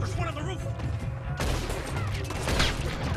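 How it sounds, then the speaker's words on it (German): A Red Dead Redemption 2 gunshot goes off as a sharp loud blast partway through, cutting over a busy bed of game music and ambience. "jetzt haben wir ihm ins Gesicht geschossen"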